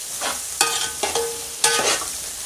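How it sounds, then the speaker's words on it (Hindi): Egg frying in a pan as part of a chicken fried rice recipe gives a loud, steady sizzle broken by three or four scraping stirs of a spatula, close up, with no talking. "अभी अंडा डाल के साइड में फ्राई करते जाएंगे।"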